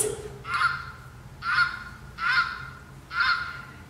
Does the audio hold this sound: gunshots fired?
no